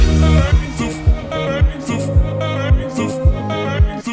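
Breakdown section of an electronic track, with chopped vocal fragments over a full synth bed and deep bass thumps landing roughly every half second, loud and steady throughout.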